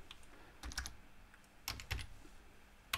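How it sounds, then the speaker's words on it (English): Scattered keystrokes and clicks on a computer keyboard while entering a resistor value in LTspice circuit simulation software, in a few short bursts separated by pauses, close and fairly quiet. "So a right click on R2, we type 1 meg."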